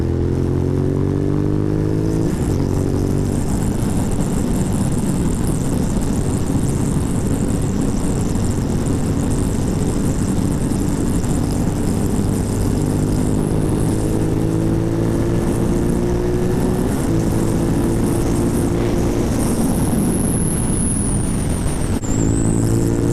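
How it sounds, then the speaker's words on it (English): A motorcycle is ridden fast and loud on open roads, its engine roaring continuously at close range with rising and falling pitch as it revs and shifts, plus steady wind rush throughout. "My bike is always really loud right here."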